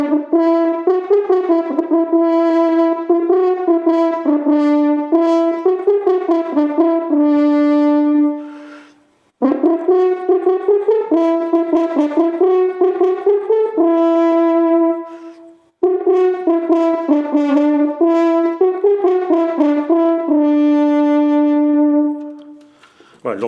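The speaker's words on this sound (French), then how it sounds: "donc ça, à l'origine, c'était le son du corps de chasse" A hunting horn sounds its traditional calls in three long, melodic phrases of sustained, bright brassy notes, each ending on a held tone and separated by brief pauses.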